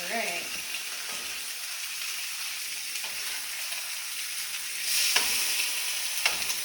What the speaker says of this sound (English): I'm actually going to just give them a little toss just to make sure they're cooking evenly.